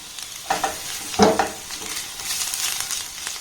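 Grated garlic and a little grated ginger dropped into hot oil in a pan, giving a few sharp sizzling bursts and stirring scrapes before settling into a soft, steady fry.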